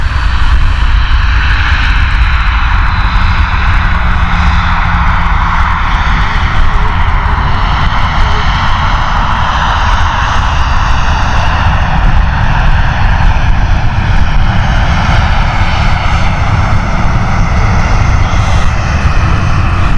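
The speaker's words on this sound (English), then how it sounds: "Heading out in a moment as well is the Crossix flight" A passenger jet departing Stansted Airport in wet weather, a loud, sustained engine roar with broad rushing noise that holds steady for the whole stretch, close by and with no talk over it.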